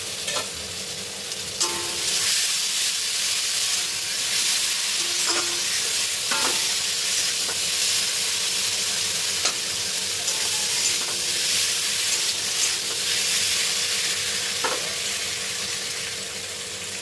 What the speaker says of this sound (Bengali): আমার আলুটা কষানো হয়ে গেছে